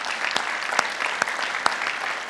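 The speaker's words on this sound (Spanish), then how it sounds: "Dale un aplauso de alabanza al Señor." A church congregation bursts into dense, lively applause of praise, with a few sharp individual claps standing out above the steady crowd clapping throughout.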